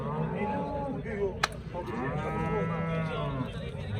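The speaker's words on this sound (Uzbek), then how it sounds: "Mana sigirimiz." A cow moos in a long, drawn-out low call, with a sharp knock midway and chatter in the background at a livestock market in Pop district, Namangan region, Uzbekistan.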